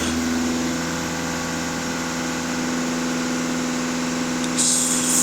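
A Volkswagen Passat B8 engine idles with a steady, even hum and low mechanical drone, close and constant, with no voices.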